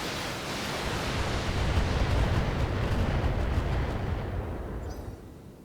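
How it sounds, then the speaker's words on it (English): A barrage of LRM missiles pounds a shredder turret in the BattleTech video game, heard as a loud, dense, continuous rumbling roar of overlapping blasts that holds steady for several seconds before fading slightly at the end. "We're going to drop some LRMs on that shredder turret."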